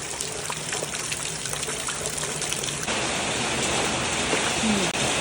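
Heavy rain pours steadily in a Thai home setting as rainwater is collected, a dense continuous hiss and patter of water on surfaces lasting throughout, fairly loud and unbroken, with a faint voice briefly near the end.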